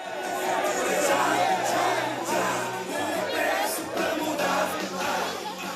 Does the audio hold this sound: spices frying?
no